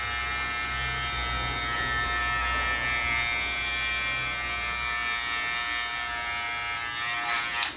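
Electric hair clippers with a number 1 comb guard cut hair for a social American-style men's haircut: a close, continuous high buzzing hum with a faint shift in tone as the blade moves through the hair.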